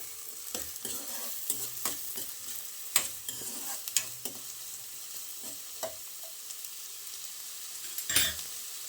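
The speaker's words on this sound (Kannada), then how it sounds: "ಇದನ್ನು ಚೆನ್ನಾಗಿ ಈರುಳ್ಳಿ ಫ್ರೈ ಮಾಡ್ಕೊಳ್ಬೇಕು." Onions fry in a pan with a soft sizzle, broken by repeated scraping stir strokes of a spoon at an uneven rhythm, fairly quiet and close, with no talking.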